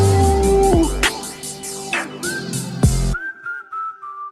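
Whistling ad-libs in a French rap track: several sliding whistled tones, some rising and falling, over a loud beat before the music drops out and a lone whistle carries on alone.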